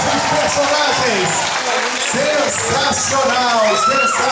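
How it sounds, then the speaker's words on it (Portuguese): An audience at a June festival quadrilha claps and cheers for performers in character costumes, a dense crowd of applause and shouts with a voice speaking over it. "E quem gostou, bate palmas para os nossos personagens."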